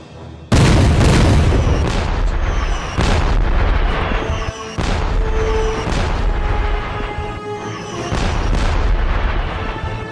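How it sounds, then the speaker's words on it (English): Heavy cannon fire in a battle, aimed at French guns: loud, deep booms repeat every second or two, each with a long rumbling tail, and the blasts overlap into a continuous roar with no voices. "Open fire on the French guns."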